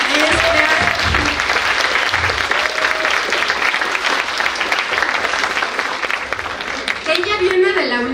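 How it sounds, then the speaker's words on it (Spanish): An audience applauds a teacher being welcomed at a panel talk, a dense burst of clapping that goes on steadily throughout, loud and close, with some voices mixed in near the end. "bienvenida Silvana, un aplauso a mi maestra."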